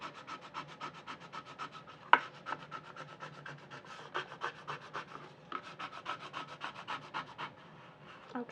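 A plastic scraper rubs over adhesive vinyl laid on a surface for a craft-room decor project, giving a close run of quick rhythmic rasping strokes with a sharp tap near the start, alone without talk.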